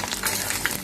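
Potatoes fry in hot oil in a pan, giving a dense, steady sizzle that lasts under a second with no voices.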